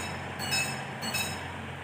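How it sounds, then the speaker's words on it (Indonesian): KRD Bias diesel multiple unit pulling into Indihiang station, a steady low rumble with faint metallic squeals and clinks of wheels on rail, moderately distant and even throughout. "inilah rangkaian KRD Bias ya, yang dikirim dari Solo menuju Bandung ya"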